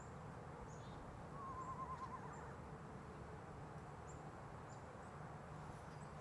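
An Eastern screech owl gives a soft, wavering trill once, faint and distant over a steady hiss of night insects and ambient noise.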